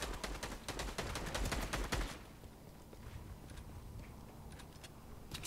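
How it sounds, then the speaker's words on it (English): Gunfire in the video game Fortnite, a rapid burst of loud sharp shots over the first two seconds, then a few scattered quieter shots and game ambience. "I'm going to try and shotgun him. I'm just going to go for the shotgun."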